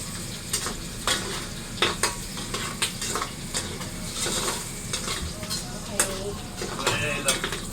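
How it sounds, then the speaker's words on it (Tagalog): Onion, garlic and green chili sauté in a hot pan, a constant crackling sizzle broken by frequent scrapes and knocks of a stirring utensil, with a voice speaking now and then over it. "Inisa mo na pala yung sibuyas, bawang, siling green."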